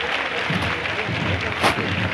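A crowd breaks into applause at a Palm Sunday Holy Week procession in Huelva as a brotherhood sets out, a steady wash of clapping with voices mixed in.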